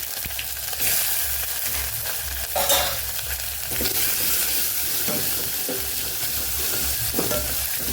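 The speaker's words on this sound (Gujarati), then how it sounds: "આદુ મરચાંને સાતડી લેવાના છે" Mustard seeds, hing, curry leaves, ginger and chillies sauté in hot oil, giving a constant loud sizzle broken by scraping stirs of a spoon against the pan.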